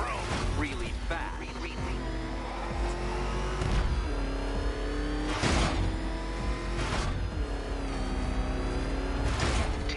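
The Batmobile engine in Batman: Arkham Knight roars and revs continuously, loud and dense, surging in a few whooshing swells along with mechanical clanks and rumble. A character's voice talks over it.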